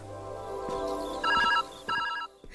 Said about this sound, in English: Pick up the receiver to answer the phone call.